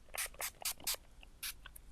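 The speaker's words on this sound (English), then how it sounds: "Spray a little bit because it's a little dry" A handheld facial mist bottle sprays in quick short bursts, about five close hisses in a row and then one more after a pause, with faint handling noise between them.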